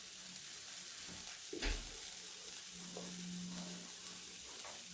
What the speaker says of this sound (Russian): Часто мешаем в начале до закипания